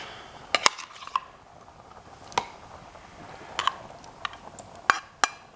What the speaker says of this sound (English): Now I'm going to add in my tomatoes.